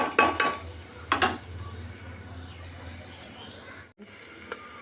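Kodo millet breakfast mix stirred in a pan, a few bright scrapes and clinks of a utensil against the metal early on over a low, steady cooking hiss, then quieter stirring.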